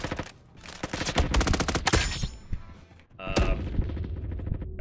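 Rapid bursts of automatic gunfire from a Roblox shooter game, dense rattling volleys close and loud, broken by a short lull and then resuming with another sharp burst and trailing echoes.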